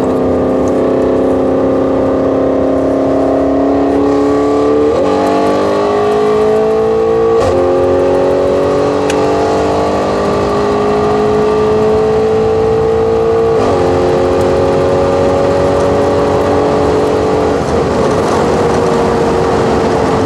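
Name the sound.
sports car engine revving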